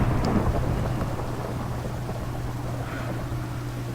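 A thunderstorm with high winds in the game Tornado Survival: a loud, steady roar of rain and wind with deep rumbling underneath, continuous and unbroken, no voices.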